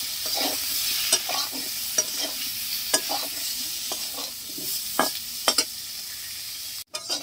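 Potatoes fry in mustard oil with turmeric and salt, giving a steady close sizzle broken by repeated sharp scrapes and clinks of a spatula stirring the pan every second or so.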